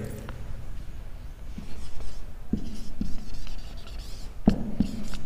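A pen scratches steadily across a writing surface at close range while the names of chemical indicators are written out for a seventh-grade science lesson, with a few sharper taps along the way.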